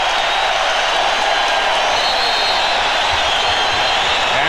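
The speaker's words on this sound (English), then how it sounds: "And this crowd exploding." Loud, steady roar of an arena crowd cheering at a 1996 NBA Finals basketball game between the Bulls and Sonics, a dense continuous wall of voices that holds throughout.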